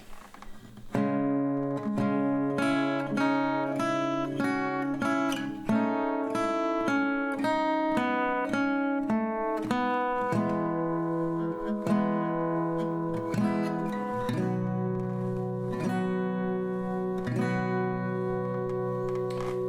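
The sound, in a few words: acoustic guitar chords played slowly with melody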